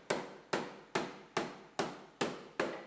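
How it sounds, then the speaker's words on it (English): Seven sharp metallic hammer blows land at a steady, even pace as the outside panel of a Honda CR-V's B pillar, damaged in a T-bone collision, is beaten flat, each strike close and loud with a short ringing decay. "And then we'll hammer out the outside panel."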